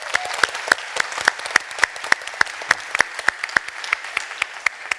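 Sparse, distinct handclaps from a small audience at a recovery conference session, individual sharp claps spaced irregularly, close and clear.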